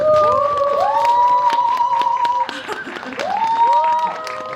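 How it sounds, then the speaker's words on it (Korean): An audience at a film screening Q&A for Exhuma applauds to welcome the director and an actor, with sustained clapping and rising cheers and shouts throughout. "큰 박수로 맞이해 주세요"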